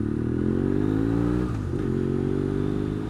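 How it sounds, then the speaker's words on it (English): A motorbike engine drones steadily and close while riding, a dense low rumble with a brief dip and shift in pitch midway, then settling back to an even cruise. "God, I love being out on this motorbike"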